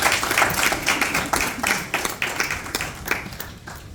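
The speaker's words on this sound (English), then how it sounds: "Let's clap for Government of Ghana once again." Audience applause at a Ghanaian government entrepreneurship and small business event, a mid-sized crowd clapping in uneven bursts that gradually thin and fade over a few seconds.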